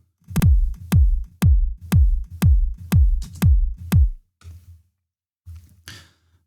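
A layered kick drum combining a mid kick and a sub kick strikes eight times in an even, punchy rhythm, each hit booming with a deep decaying tail, followed by a few soft low thumps.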